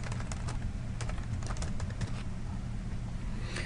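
Fast, irregular clicks of typing on a computer keyboard, close and fairly quiet, over a constant low hum.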